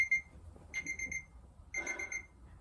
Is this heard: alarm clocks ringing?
yes